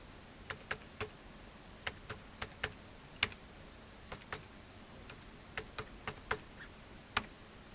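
Computer keyboard keys tapped while entering a date and invoice details in Tally Prime accounting software: sparse, irregular, crisp clicks, some in quick pairs, quiet and close with no voices.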